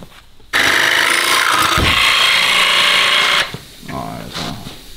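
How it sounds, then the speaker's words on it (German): A loud, high-pitched power drill whirs steadily for about three seconds, then stops, followed by faint voices. "aber dann bohren wir einfach einzelne Löcher."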